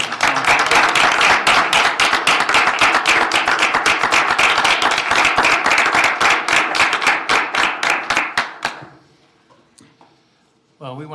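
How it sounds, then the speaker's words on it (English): Council meeting audience in Crystal, Minnesota breaks into brisk, rapid clapping that holds strong for about nine seconds, then quickly thins to a few scattered claps and falls quiet before a voice resumes. "A round of applause."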